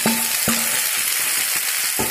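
Onions frying in a hot pan, browning lightly for a dish of dahi kochu with jackfruit seeds. A loud, continuous sizzle, with a few sharp clanks of a utensil against the pan spaced through it.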